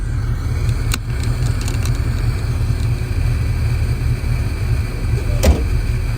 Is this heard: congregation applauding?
no